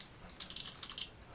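Short burst of quiet keystrokes on a computer keyboard, a handful of light clicks in two quick clusters against a faint background hiss, with no voices.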